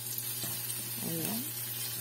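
Onion and garlic sauté in a pan for a ginataang sigarilyas with shrimp, giving a steady close sizzle under a low hum, with a brief murmur of a voice partway through.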